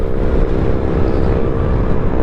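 Motorcycle cruising along a curving mountain road, a steady loud engine drone with heavy wind buffeting the microphone throughout and no speech.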